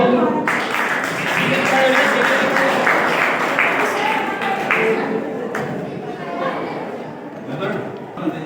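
Audience applause rings out for a teacher at a school annual results and prize distribution ceremony, steady broadband clapping across the room with a voice speaking over it throughout, thinning toward the end.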